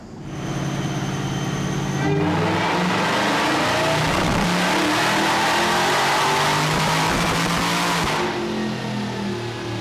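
A supercharged Dodge Charger Redeye engine on a dyno at Livernois Motorsports, revving hard through a full pull: a loud, rising mechanical roar with whine that builds for several seconds, holds near peak, then drops off.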